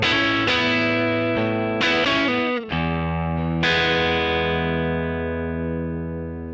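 Electric guitar played through a Kemper profile of a Dumble amp miked with an SM57 in a treated studio room: a few struck chords and single notes, each left ringing with a long sustain, loud and close with no voices.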